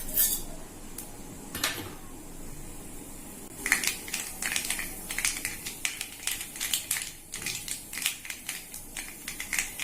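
Mustard seeds and urad dal crackle and splutter in hot coconut oil while tempering for a small-leaf spinach thoran; after a quieter start, a dense run of sharp, close pops and crackles continues steadily to the end.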